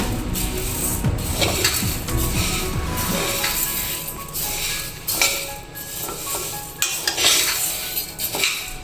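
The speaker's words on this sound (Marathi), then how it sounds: "गहू भाजून घ्यायचे मंद आच्यावर भाजायचे" Wheat grains dry roasting and being stirred in a metal pan over a low flame, with steady scraping, rattling and clinking of a spatula against the pan throughout, close and moderately loud.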